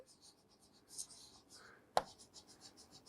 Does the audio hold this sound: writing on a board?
yes